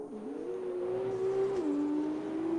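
An F2 race car engine in a racing video game at Bahrain holds a loud, steady high whine that sags briefly under braking and rises again, droning continuously on the exit of the final corner.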